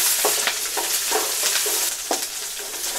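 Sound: capsicum frying and being stirred in a pan

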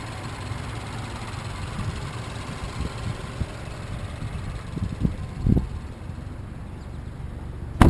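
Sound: Mazdaspeed3 2.3-liter four-cylinder turbo engine idling

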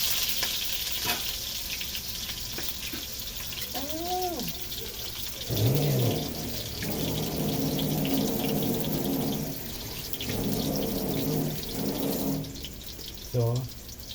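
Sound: food being added to hot cooking oil, sizzling

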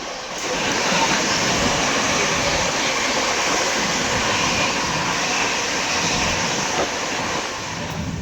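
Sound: fast superfast express train running, heard on board

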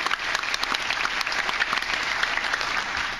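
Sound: audience applause

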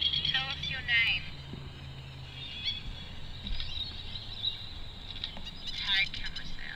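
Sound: birds

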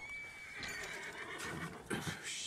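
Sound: horse neighing in a video game

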